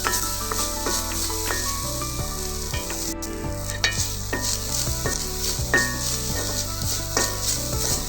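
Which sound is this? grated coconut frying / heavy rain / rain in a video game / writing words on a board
grated coconut frying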